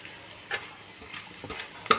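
Chopped ginger fries in a pan for a broccoli and paneer curry, giving a low, steady sizzle broken by a few short stirring scrapes and clinks, with one sharper knock at the end.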